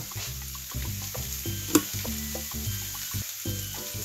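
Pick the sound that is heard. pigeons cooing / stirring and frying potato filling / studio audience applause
stirring and frying potato filling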